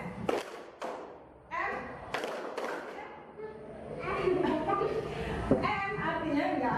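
Classroom clapping rhythm exercise, a few sharp hand claps and thuds in a short pattern followed by scattered claps, children's voices and a teacher talking around them.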